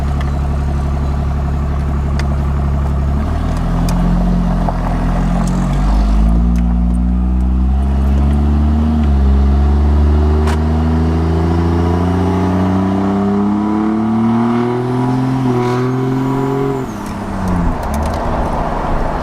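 A loud, steady diesel engine drone from a Cummins truck with a big turbo, its rising turbo whine climbing in pitch over several seconds, then dropping briefly near the end; no voices.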